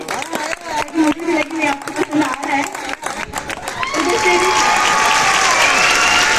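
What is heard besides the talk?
audience clapping at fresher party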